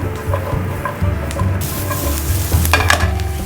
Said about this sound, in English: Brussels sprouts are sauteing